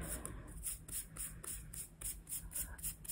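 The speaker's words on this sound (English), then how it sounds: "So spray them out, bit of cornflower" Spray is misted onto coffee filters in a quick series of about a dozen short, hissing bursts, evenly spaced and close but quiet.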